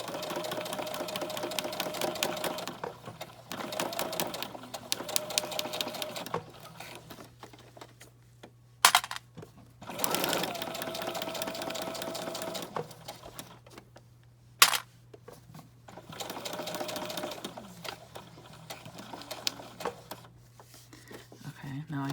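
Sewing machine stitching accordion journal covers together, bursts of rapid mechanical stitching with pauses and a couple of sharp clicks, while a person talks over it.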